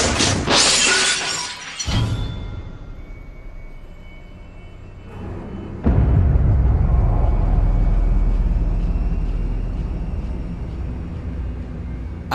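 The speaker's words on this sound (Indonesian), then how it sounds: "Lalu bunyi hantaman keras yang memekakan telinga." A loud, sharp crash of shattering glass opens with a dense, bright burst, then fades into a rumbling, debris-filled tail and a second heavy low impact partway through, with no voices.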